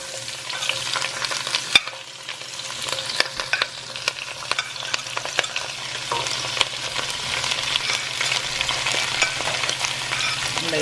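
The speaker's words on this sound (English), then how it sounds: "Hey, I'm gonna fry down these vegetables real quick." Vegetables sizzle and crackle steadily in a hot pan for a curry crab stew, with occasional stirring clicks and scrapes, close and continuous without speech.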